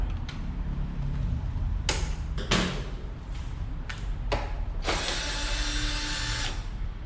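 A ratchet wrench loosens three nuts, heard as a series of sharp, close mechanical clicking bursts separated by pauses, with one longer continuous ratcheting run near the end and no voices.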